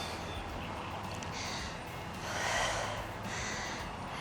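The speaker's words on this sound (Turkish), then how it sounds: "Ağzımdan verdim." A person doing outdoor cardio pilates exhales through the mouth in a few soft, breathy bursts, close and fairly quiet, with no talking.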